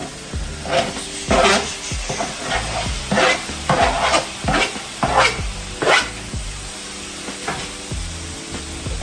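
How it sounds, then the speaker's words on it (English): Tomatoes hitting a hot pan with a sizzle, then stirred in repeated scraping strokes that rise and fall over steady background frying hiss. "Now I'm going to add in my tomatoes."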